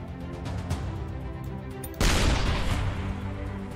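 A sniper shot fires in the artillery game Shellshock Live: a single sudden blast cuts in partway through and rolls into a dense, noisy decay, over quieter game background sounds.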